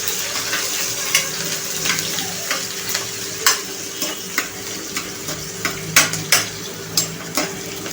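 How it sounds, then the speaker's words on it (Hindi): Onion, green chili and garlic frying in a pan, a steady close sizzle broken by regular clinks and scrapes of a spoon stirring against the metal, with no talk. "प्याज के साथ ही हरी मिर्च और लहसुन भी फ्राई हो जाएगा।"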